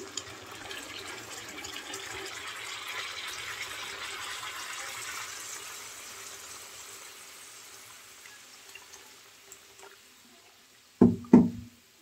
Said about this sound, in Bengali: পানি দিয়ে দেব এখন।